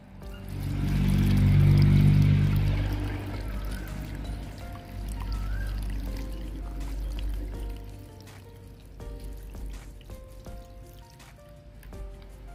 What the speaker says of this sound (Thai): เทใส่ลงในภาชนะกันเลยครับ